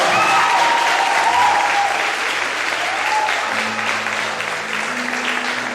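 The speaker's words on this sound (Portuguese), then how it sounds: "Aplauda esse Deus maravilhoso." A church congregation applauds loudly in praise, a thick wash of clapping running throughout with faint tonal voices or cries weaving above it.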